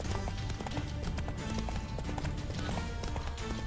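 Roach, Geralt's horse in The Witcher 3, gallops in a steady run of quick, loud hoofbeats that drive on without a break over dense game music and ambience.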